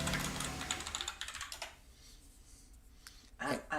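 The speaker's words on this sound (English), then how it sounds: "Ask her if she can hear the clacking of the keyboard now as I type this message." A computer keyboard clacks in quick bursts of typing, soft and close, with short pauses between runs of keystrokes and a brief stretch of quieter background.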